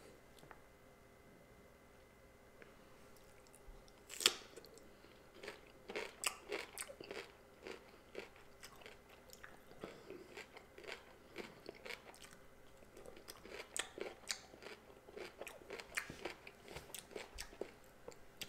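Crisp, close crunches of fresh cucumber being bitten, seasoned with Tajin Mexican chili-lime spice, followed by repeated wet chewing in bursts. No talking.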